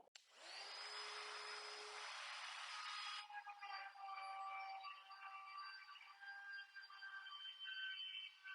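A laminate trim router spins up and runs steadily while trimming a laminate countertop endcap, a loud close whine that shifts pitch partway through as the bit cuts along the edge, with no voices.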